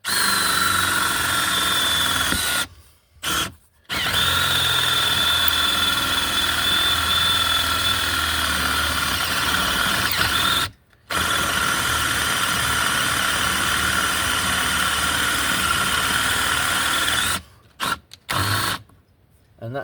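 Power drill driving a forstner bit into a wood block held in a vice, making a steady loud whirring drone that stops briefly several times, close by with no talking.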